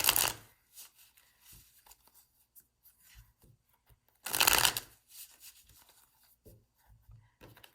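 Tarot cards shuffled by hand, with a long riffling burst in the middle and softer scattered card rubs and taps before and after, close and fairly quiet with no speech.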